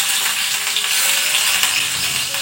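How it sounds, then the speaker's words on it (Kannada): Onions dropped into hot oil in a home kitchen alongside curry leaves, giving a steady bright hiss of frying that holds evenly throughout without a break and with no voices. "ಈರುಳ್ಳಿ ಹಾಕ್ತಿದ್ದೀನಿ ಫ್ರೆಂಡ್ಸ್."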